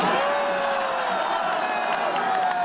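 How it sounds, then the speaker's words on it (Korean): A crowd at a rally in support of a presidential impeachment erupts in a loud, sustained roar of cheering and whooping, with voices rising together across the whole moment. "오전 11시 22분 탄핵 찬성 집회에서 함성이 터져 나옵니다."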